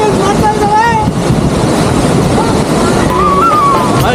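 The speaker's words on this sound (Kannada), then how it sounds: "ಹರಿಯುವ ನದಿಯಲ್ಲಿ" Steady rushing water of a flowing river at Vajragundi falls near Ankola, loud and continuous with some wind buffeting, while faint voices rise briefly over it.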